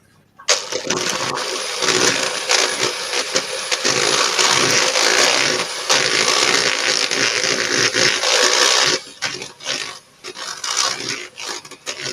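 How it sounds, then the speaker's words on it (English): Butter being whisked until soft and fluffy while baking caramel blondies, a loud continuous whirring that runs for about eight seconds, stops abruptly, then returns in shorter bursts. "Whisk the butter until it's soft and fluffy."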